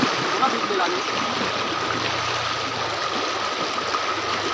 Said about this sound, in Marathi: पाहू शकता ओढा इथे